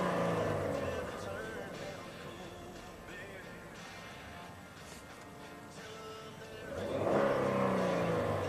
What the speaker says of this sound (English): So I'm going to rev it up.